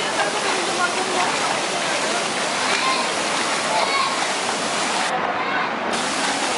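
Strong, steady gush of water pouring at a water park, a loud continuous roaring spray with a brief dip near the end, while people talk over it.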